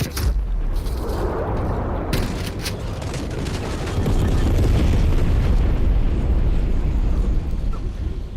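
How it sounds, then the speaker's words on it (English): Napalm strike explosions in Call of Duty: Black Ops Cold War build as a loud, continuous roaring rumble, with a few sharp cracks early on and the blast noise swelling louder in the second half. "Enemy napalm strike incoming."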